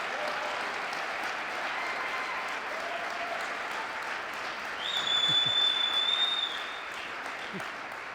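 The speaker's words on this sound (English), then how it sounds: "So please give a round of applause to gentlemen and scholars for agreeing to be the MC." Audience applause at a 2022 Black History Month celebration greets the event's MC, a soft, steady spread of clapping heard from a distance, with a brief high whistle-like tone partway through.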